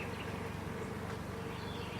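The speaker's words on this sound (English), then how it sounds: "these bees are gentle" Honey bees hum in a steady, dense drone around a hive holding honey supers on a sunny, calm day, the buzz continuous and close with no voices.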